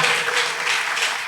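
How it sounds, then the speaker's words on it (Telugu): A church congregation at Sunday worship in Narasaraopet clapping loudly together, a dense, continuous burst of applause from many hands, close and steady with no voice over it. "చప్పట్లు కొట్టండి గట్టిగా."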